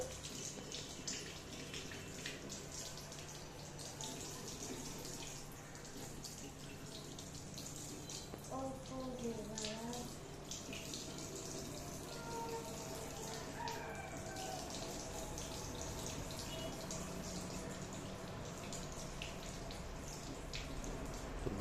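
A tap runs in a steady, faint hiss as a child rinses after brushing teeth at home. Brief voice-like or crowing sounds rise faintly in the background partway through.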